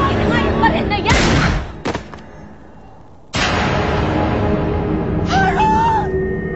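Gunshot sound effect in a Filipino TV drama scene: a sharp, loud broadband burst around the second mark, with further heavy blasts of noise before and after, set against a dense, continuous background.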